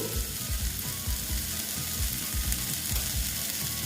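Ground cumin and turmeric sizzle in hot oil in a pan while snake gourd (chichinga) cooks, a continuous frying hiss broken by quick, repeated stirring scrapes close by.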